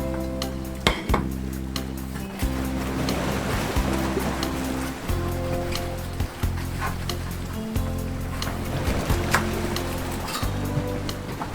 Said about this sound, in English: Wash and dry the sprouts.